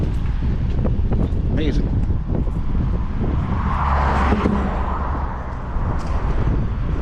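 Strong wind buffets the microphone during a walk across the Pie-IX Street Bridge between Laval and Montreal, a steady rushing roar with passing traffic underneath and a brief spoken exclamation.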